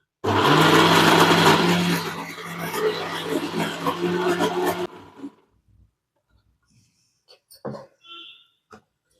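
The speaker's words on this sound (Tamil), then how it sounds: "அரைச்சி எடுத்துக்கலாம் நல்லா பேஸ்ட்டாக அரைச்சி எடுத்துக்கணும்" Mixer grinder grinding masala into a paste, a loud steady whirring motor for about five seconds that cuts off, followed by near silence and a few faint clicks.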